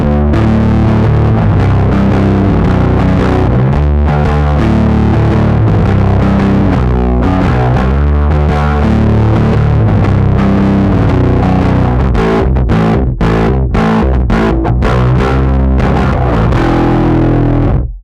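A bass guitar run through a high-gain overdrive pedal, playing loud, thick, distorted riffs with sustained notes and choppy rhythmic stabs, solo with no talking.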